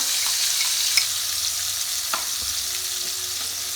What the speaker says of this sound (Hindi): ये मसाला का पेस्ट अभी कढ़ाई के अंदर ये देखिए